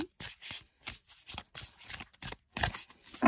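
Oracle tarot cards from the Little Ghosts oracle deck are shuffled by hand, giving a series of quick, close papery riffles in short bursts with brief pauses between them.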